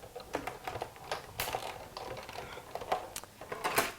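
A paper die-cutting machine cranked by hand with a cutting pad while making a dragonfly card, giving a run of close, uneven clicks and ratcheting knocks.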